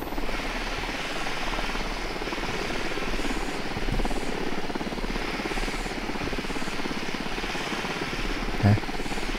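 A helicopter in the video game Ghost Recon Wildlands keeps up a constant throbbing rotor drone, loud and unbroken, with a brief low bump near the end.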